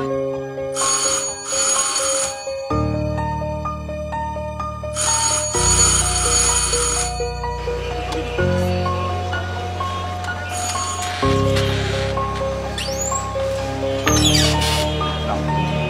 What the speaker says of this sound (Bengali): এক ঘন্টা ধরে কলিং বেল চাপাচাপি করতেছি